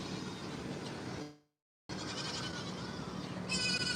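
Goats at the Bloomsburg Fair call out in a barn, their bleats mixed into a constant noisy background with a brief drop to silence in the middle.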